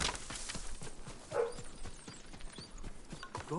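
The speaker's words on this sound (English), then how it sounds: "My dogs are barking again." Dogs bark faintly in short, scattered yips within the Ghost of Tsushima video game, with soft hoof clops and quiet ambience around them.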